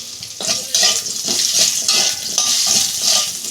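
Potatoes frying in hot oil for a pabda fish curry give a loud, close crackling sizzle, broken by quick scraping and stirring strokes in the pan.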